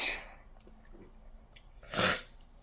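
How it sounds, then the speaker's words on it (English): A person sneezes once, loud and close, after a quiet breathy intake in an otherwise still indoor room. "Well, that didn't work because I sneezed."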